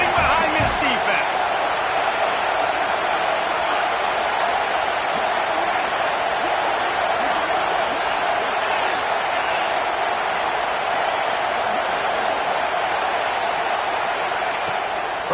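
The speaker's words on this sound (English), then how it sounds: "this crowd is getting behind this defense" A football stadium crowd at a Michigan versus Eastern Michigan game roars steadily behind the defense on a red-zone third down, a dense, unbroken wash of crowd noise under an announcer's voice.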